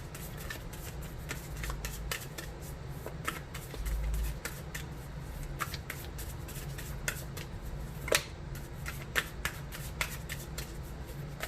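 Tarot cards being shuffled by hand, a continuous close run of soft riffling slaps and flicks with a few sharper snaps, no voices.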